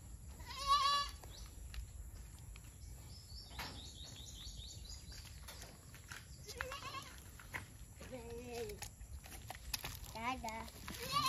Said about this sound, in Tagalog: Ito po guys yung nanay nung pinakita ko sa inyong kambing na lalaki na nag-iisa.